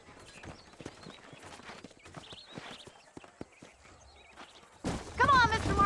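Horse hooves clop steadily at a walking pace in the PS5 version of the video game Red Dead Redemption, with a soft rhythmic patter over quiet ambience before a voice starts talking loudly near the end.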